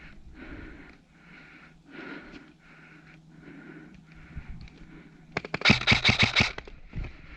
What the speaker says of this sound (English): As I trade shots with this player at the corner